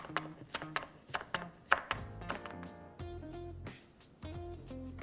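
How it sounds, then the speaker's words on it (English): A knife finely chops Italian parsley leaves on a board in a string of quick, sharp taps, with soft tonal background music playing underneath. "I'm pinching off some leaves and then I'm just gonna finely chop it"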